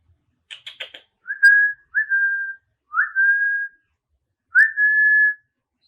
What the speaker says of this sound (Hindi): ऐसी हल्की सीटी मार के आप उसको कंफर्टेबल कर सकते हैं।